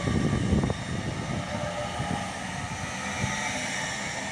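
A Great Western Railway class 800 nine-coach train pulls out of Reading station on the Great Western Main Line, a steady broad engine and rolling rumble, moderately distant, with a brief louder burst at the start.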